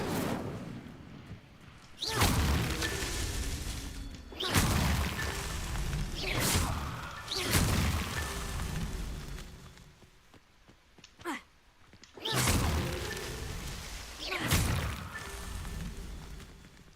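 Incendio fire spell casts in Hogwarts Legacy produce a series of sharp whooshing bursts, each flaring into a booming blast and then fading, repeated several times with short gaps between.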